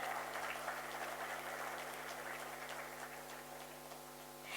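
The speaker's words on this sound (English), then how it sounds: "a huge round of applause" Audience applause greeting a book release at an inaugural session, a steady even wash of clapping from many hands that holds for several seconds at moderate level before easing slightly at the end.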